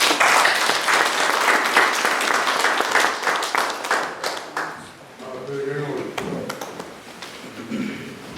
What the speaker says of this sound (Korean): 박수로 환영하시겠습니다